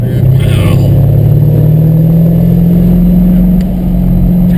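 A loud car engine with a holed exhaust header idles and revs with a deep, rumbling, race-car-like exhaust note, steady and close, with faint clatter.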